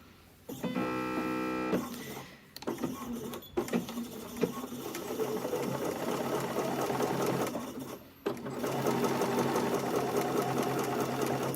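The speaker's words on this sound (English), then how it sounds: "And we're just going to stitch down as far as we can." A sewing machine runs in bursts while edge stitching the facing of a McCall's 8042 drawstring neckline top, its needle chattering close and loud, stopping briefly between runs and then resuming for a long continuous stretch.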